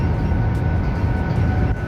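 A train ride, with a constant loud rumbling roar of the carriage in motion filling the scene and no voices.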